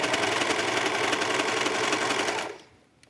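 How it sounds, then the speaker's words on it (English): A serger sewing machine runs fast and continuously, stitching while its blade trims fabric for a children's skirt, a loud even whirring chatter that stops abruptly near the end. "The serger does have a blade, which is trimming the fabric"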